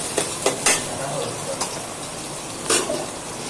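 Carp fish curry with green chillies stirred in a pan, a low frying sizzle under a few sharp spoon scrapes and clinks against the pan, scattered and irregular, with a voice speaking softly at points.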